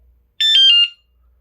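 Loud, piercing electronic anti-theft alarm for a bicycle, motorcycle or kick scooter, the Noeullim 3.0, sounding indoors in one sharp burst of about half a second, close and harsh, then quiet.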